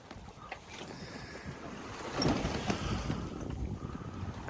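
Wind and open-water noise around a sailboat on the North Sea, with loose sails flogging and rustling in swell and uneven gusts, rising a little midway.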